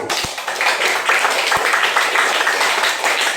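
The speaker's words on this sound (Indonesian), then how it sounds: "Oke, tepuk tangan untuk Bintang." A classroom audience at a university teaching-practice session applauds a student named Bintang, with steady group clapping filling the room for a few seconds.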